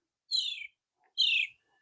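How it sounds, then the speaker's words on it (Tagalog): Two clear, high descending bird calls sound from a vegetable garden with tomatoes, zucchini and bitter gourd, each call about half a second long and separated by a short pause in otherwise quiet air. "Ang dami naming ibon dito, friends."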